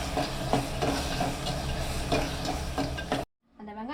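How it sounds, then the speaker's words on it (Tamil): Onions sautéing in a pan for a fried fish curry, a close, steady sizzle with rhythmic scraping stirs, cutting off abruptly near the end before a brief voice is heard. "சேர்த்து நல்லா வதக்கிக்கலாம்."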